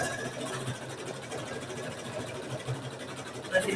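A multi-needle embroidery machine stitches the lips on a felt doll, a quiet steady mechanical whirr with rapid needle chatter, close and uninterrupted with no talking.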